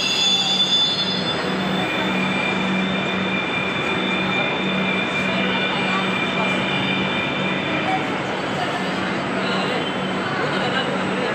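A metro train rumbles steadily through a Kolkata metro station, with a continuous roar and faint wheel squeal that fill the whole stretch.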